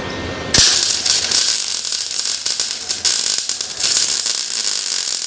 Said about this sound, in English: so we'll do a little weld here.